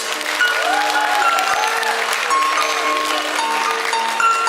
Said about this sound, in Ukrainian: Ваші бурхливі оплески нашим конкурсанткам.